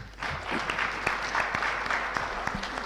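Applause from an audience at a parliamentary briefing session after an ambassador's address: steady, dense clapping that fills the room throughout, with a few sharper individual claps standing out.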